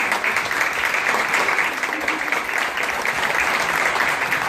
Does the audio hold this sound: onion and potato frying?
no